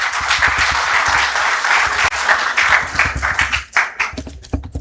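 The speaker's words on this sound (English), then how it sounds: "a hand of applause." Applause at a formal assembly ceremony, loud and close at first, then thinning into scattered individual claps as it fades out.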